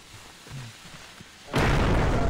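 A sudden loud, broadband blast from a video game explosion bursts in after a quiet stretch and holds as a dense roar to the end.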